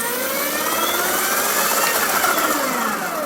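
An Oset MX10 electric dirt bike held at full throttle gives a loud, steady high-pitched motor whine that stays constant throughout, close by with no talk.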